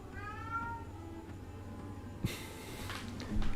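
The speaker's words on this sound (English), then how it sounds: "I hear the meow." A pet cat meows indoors, a clear drawn-out mew near the start followed by quieter rustling and a soft thump, with no talking.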